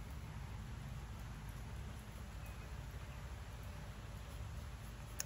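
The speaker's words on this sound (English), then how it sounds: "Oh, it's starting to rain." Steady rain beginning to fall outdoors, a constant soft hiss of drops with a faint sharp tap near the end, no voices.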